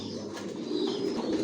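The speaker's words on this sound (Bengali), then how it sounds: "এগুলো ইম্পোর্ট করা কবুতর, এগুলোর বাচ্চা রেডি হলে আপনারা নিতে পারবেন, ডিম নিয়ে বসা আছে" Racer pigeons cooing softly in a loft, a brief low throaty coo close by against a faint background hum.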